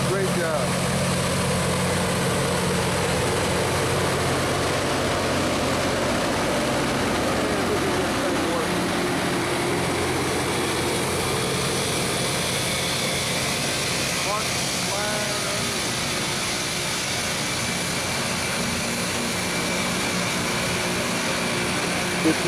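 A Loram rail grinder works Norfolk Southern track, giving a continuous loud, roaring grind with heavy engine rumble and a rush of debris for over twenty seconds, with voices talking underneath.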